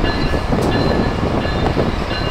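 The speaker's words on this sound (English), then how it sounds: "Pulling an outbound Keystone to Harrisburg." ACS-64 electric locomotive pushing a Keystone passenger train bound for Harrisburg out of Philadelphia's 30th Street station, a loud steady roar of traction motors and rolling cars close by, with no talking.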